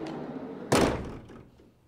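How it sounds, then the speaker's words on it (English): The sliding door of a 2019 Volkswagen Transporter T32 Highline van shuts with a single solid thunk, close and clear, fading out quickly over light background noise. "This is double sliding doors."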